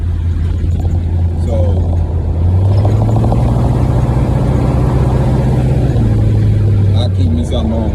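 A 1970 Oldsmobile Cutlass Supreme's engine while driving, a loud steady low rumble that rises slightly in pitch mid-way and settles again, heard from inside the car with someone talking over it.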